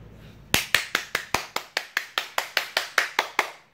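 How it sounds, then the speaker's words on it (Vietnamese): Applause from a small group: about fifteen sharp, evenly spaced claps, close and loud, in a steady rhythm after a brief quiet start. "hãy nhiệt liệt cho mình một tràng vỗ tay nào"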